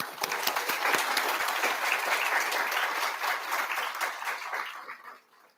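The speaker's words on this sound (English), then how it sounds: "Let's give them a round of applause." An audience at a spring AAPI/APIDA graduation celebration gives a dense, steady round of applause that tapers off and stops near the end.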